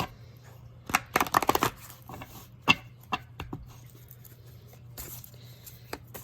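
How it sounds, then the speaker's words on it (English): Quick bursts of tarot cards riffling and snapping together close by, broken by softer scattered taps and pauses. "shuffle this deck"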